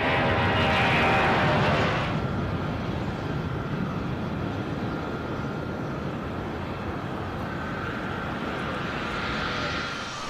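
A Boeing C-17 Globemaster takes off with a loud, sustained jet roar. A brighter high-pitched whine in the first two seconds gives way to a steady, broad rumble that holds without a break.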